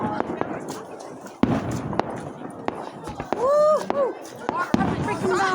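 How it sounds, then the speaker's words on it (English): Birthday fireworks going off, a series of sharp cracking bangs at irregular intervals with some whistling, fairly close, while people talk over them. "What do you think of the fireworks?"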